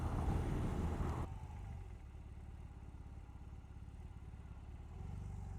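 A BMW R18 First Edition motorcycle rolls along at slow speed, its boxer engine giving a low steady thrum that drops slightly in level after a louder opening second, continuous and fairly close.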